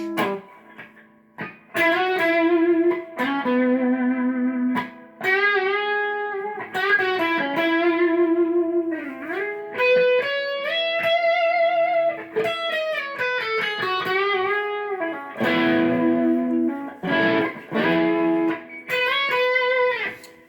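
A green ESP LTD electric guitar is played through its bridge pickup, giving a sustained, distorted run of melodic notes and bends that sounds up close and loud, with no talk.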